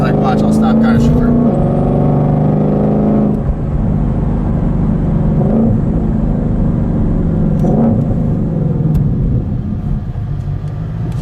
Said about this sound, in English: The auto, like an auto downshift for you when you come up to a red light.